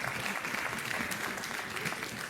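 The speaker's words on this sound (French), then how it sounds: "Vous pouvez vous applaudir." An audience at a conference on the voice claps for itself in an indoor hall, a dense and steady round of applause lasting the whole stretch.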